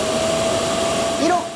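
A Dreame X50 Ultra robot vacuum's docking station empties the dust bin into its 3.2-litre bag with a steady, loud suction roar. A voice speaks over the noise, and a brief whistling rise comes near the end.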